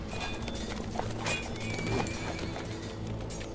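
Riders on horseback in a medieval Turkic-Mongol era drama setting: hooves clop unevenly and a horse gives a short whinny over a dense, steady background.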